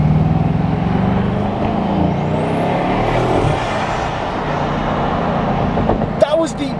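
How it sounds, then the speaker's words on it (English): A Bugatti hypercar accelerates with a loud engine roar and a rising turbo whistle partway through, as people talk over it. "That was the greatest turbo sound I have ever heard in my entire life."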